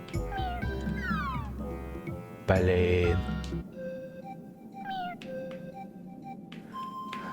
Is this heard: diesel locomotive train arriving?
no